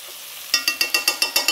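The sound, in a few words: stirring chicken and cassava curry in a pot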